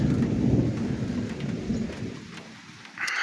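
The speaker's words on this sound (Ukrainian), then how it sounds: "Гремить." Low rolling thunder rumbles under a steady downpour outdoors, then fades toward a brief lull. The setting is a repair of a John Deere 2264 combine.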